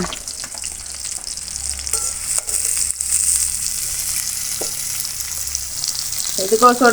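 Steady hiss and crackle of bonda snacks deep frying in hot oil, continuous throughout, with faint clinks and a brief stir near the end.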